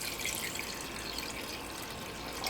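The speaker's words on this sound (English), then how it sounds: "we're just going to pour this 3 cups of water" Water poured from cups into a pot holding corned beef and sauce, a continuous bright splashing rush that stays level throughout with no talking.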